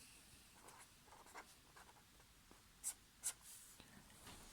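A pen writes an equation by hand on paper: quiet, close scratchy strokes in short bursts with brief pauses, and two slightly sharper taps near the end, no voice.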